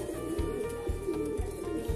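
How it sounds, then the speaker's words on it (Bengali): Madrasi pigeon cock cooing in a repeated, rhythmic series of low throaty coos, close and clear, with no talk over it. "এটা হচ্ছে ওর নর পায়রা"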